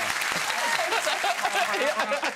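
Studio audience on a British TV chat show breaks into a steady burst of clapping, dense and sustained from start to finish, with voices mixed in beneath the applause.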